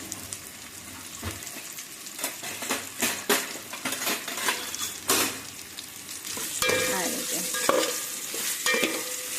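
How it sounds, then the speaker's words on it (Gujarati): Dhokla sizzles in hot tempering oil while a utensil stirs and scrapes the pan with repeated clanks; a voice speaks briefly. "હવે આપણે એમાં નાખી દેવાના છે ઢોકળા હવે આને હલાવી નાખવાના આપણે"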